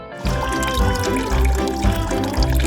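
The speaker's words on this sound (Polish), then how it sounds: "A teraz ostrożnie polejecie wodą." Water poured over a cat in a pet-rescue video game, a continuous splashing, gurgling stream that stays loud and close for the whole stretch with no talking.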